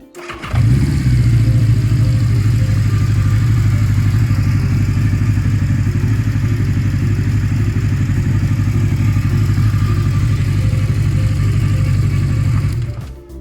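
A 1980 Honda CB 650 Custom motorcycle engine fires up on a fresh battery and idles steadily and loudly, a close, even throbbing hum that holds unbroken for the whole stretch before cutting off.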